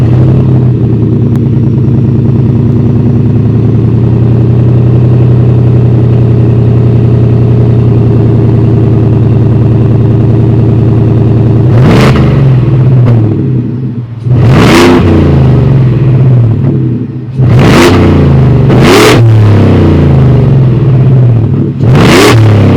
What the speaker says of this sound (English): that was the sound of the supercharged 5-liter V8 sold by Black Widow for the 2025